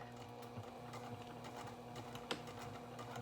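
A sewing machine runs steadily as it back stitches a coin purse piece, giving a continuous close mechanical whir with a single sharp click partway through.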